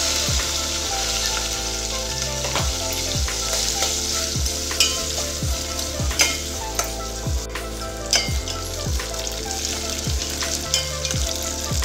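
Curry leaves and chopped onions fry in hot oil for a sorrel-leaf sambar, with a loud continuous sizzle close by and regular scraping stir strokes against the pan roughly once a second. No voices are heard.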